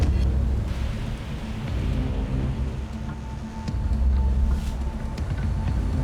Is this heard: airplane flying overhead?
no